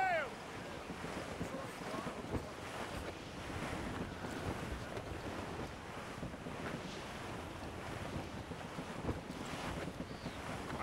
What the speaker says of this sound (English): I don't like that wind, sir!